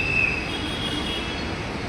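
A metro train runs on its rails, a steady loud rumble with a brief high wheel squeal near the start, heard from on board with no talking.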